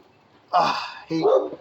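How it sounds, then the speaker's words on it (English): A neighbor's friendly, playful dog barks twice in the background during a 2024 Hyundai Santa Cruz trailer hitch wiring install, the two moderately loud barks set apart by a brief pause. "I apologize for the background dog"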